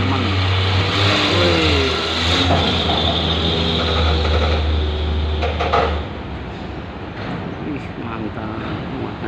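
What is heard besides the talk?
old tronton truck engine revving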